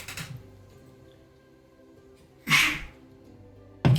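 A single sharp human sneeze bursts out loud and close near the end, preceded by an earlier sneeze-like burst in an otherwise quiet room with faint background noise.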